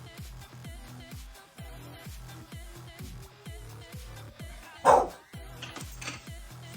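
A single sharp dog bark rings out over a steady rhythmic background hum, with a fainter yip following a moment later.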